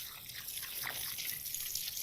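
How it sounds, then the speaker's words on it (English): Water sprays and trickles steadily through a compost worm farm as it is washed down, a continuous close hiss with dripping and splashing, no talking. "Now I'm going to wash it all down, clean it up a bit, and we're going to spray"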